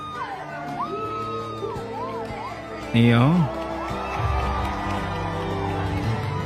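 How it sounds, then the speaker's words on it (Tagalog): Crowd shouting, whooping and cheering as Vice President Sara Duterte appears at her inauguration during the Lamut festival in Ifugao, with a loud burst of yelling midway and voices talking over the noisy crowd. "Grabe yung hiyawan ng tao."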